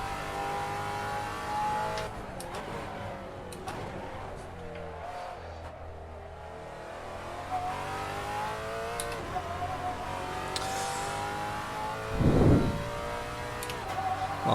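A Maserati race car with no ABS or traction control runs on a circuit, its engine droning steadily and rising in pitch through revs, up close and loud, with a short burst of louder noise near the end.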